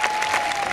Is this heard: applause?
yes